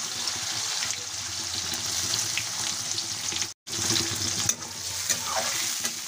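Chopped onion sizzling steadily in hot oil, the same oil used earlier for frying potatoes, with bay leaf, cumin and cinnamon already tempered in. The frying hiss is close and constant, broken once by a brief silent gap.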